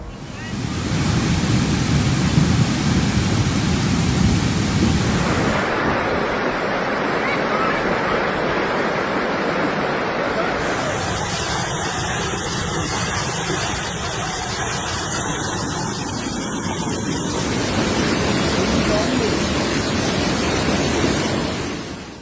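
Storm noise from tropical storm Max striking Mexico: a loud, continuous roar of heavy rain and wind that stays dense and unbroken throughout, with shifting gusty and hissing layers and no clear voices.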